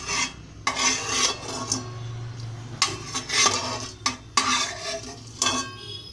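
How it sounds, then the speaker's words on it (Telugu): Spices dry roasted in a pan for mutton haleem, heard as repeated scraping and stirring of a spoon against the metal pan, with light clinks and rubbing in bursts and no talk. "నేను వేయించుతున్నాను."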